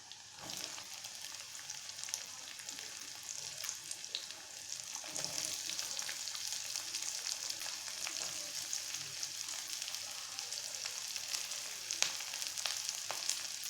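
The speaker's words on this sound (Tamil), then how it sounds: "ஆனியன் நல்லா கோல்டன் ப்ரௌன் ஆகிற வரைக்கும் நல்லா ஃப்ரை ஆகட்டும்." Onions frying with ginger and garlic in a pan for a green peas masala, a steady moderate sizzle with scattered crackles and pops running throughout, no voices.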